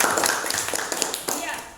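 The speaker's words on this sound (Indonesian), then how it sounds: "tepuk tangan dulu untuk Bayu" A school class gives a brief round of clapping for a student during an earth science lesson, scattered hand claps mixed with voices talking over them.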